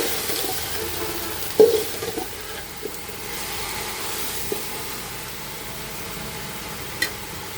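Spice paste with chilli powder for a cabbage curry sizzles quietly in a pan, a low steady frying hiss with a few light clinks of stirring.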